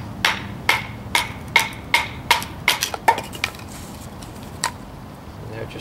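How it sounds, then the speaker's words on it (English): A large piece of oak is batoned to rough out a bow drill spindle: about ten sharp, evenly spaced wooden knocks in quick rhythm, then a single later strike, close and loud over quiet background. "when I have a big piece like this to save time, I just baton it out"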